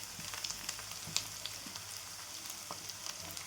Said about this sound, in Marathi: तर आता आपण टमाटर टाकून घेऊ.